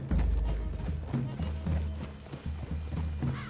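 Horses' hooves clip-clop at a steady walking rhythm in Red Dead Redemption, close and continuous over dull in-game ambience, with a faint low voice in places.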